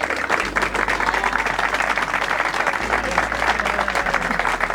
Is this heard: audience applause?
yes